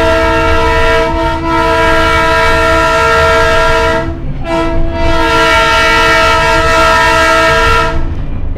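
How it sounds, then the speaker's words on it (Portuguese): A train horn blows loud and close, holding a strong, steady multi-tone whistle over a rumbling train, with two brief dips in the blast before it sounds on again. "Isso aí, depois do apito do trem."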